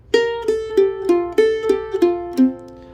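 Mandolin phrase of a tune played in first position, eight or so crisp plucked notes in a steady rhythm, close and clear, with open strings ringing over one another and bleeding together.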